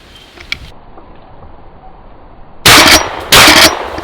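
Two loud, sharp shotgun blasts go off less than a second apart near the end while hunting ruffed grouse on a windy day, after a stretch of quiet wind noise.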